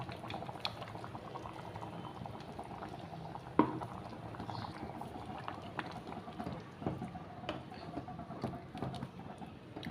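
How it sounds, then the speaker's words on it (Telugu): Chicken pulusu curry simmers on a low flame, giving a soft, continuous bubbling with a small clink partway through. "సిమ్లో పెట్టుకొని ఒక 5 నిమిషాలు ఉడకనివ్వాలండి బాగాను."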